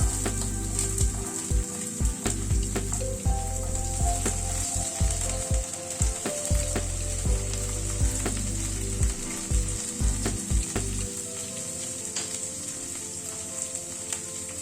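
Carrots and beans fry in a pan with a continuous close sizzle, punctuated by repeated scraping and clattering of a spatula as the vegetables are stirred, no talking throughout.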